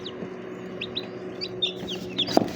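Newly hatched chicks from a manual incubator peep in a string of high, thin chirps, with a few soft clucks and a sharper cheep near the end, heard fairly close over a steady background hum.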